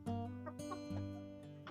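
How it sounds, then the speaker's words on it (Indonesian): A chicken being treated for a snoring respiratory illness clucks in short, close repeated calls over a steady hum of background noise. "Seperti ayam yang satu ini,"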